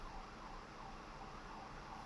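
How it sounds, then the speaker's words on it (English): A New York City emergency siren sounding faintly in the distance, a steady low wail over street noise. "It's EVC and NYC bringing the sounds of New York City, including this wonderful siren."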